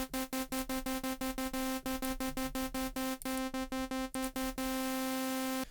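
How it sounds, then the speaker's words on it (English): A saw wave synth patch in Vital with white noise layered on top, playing a repeated rhythmic note pattern with a hissy, textured high end; alone and steady, no talking. "I like to use the white noise a lot. It creates a cool texture on top of sounds."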